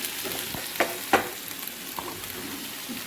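Chorchori, a Bengali mixed vegetable dish made with fish, fries and sizzles in a pan. A steady hiss runs throughout, with a few sharp scraping clicks from stirring and no talk.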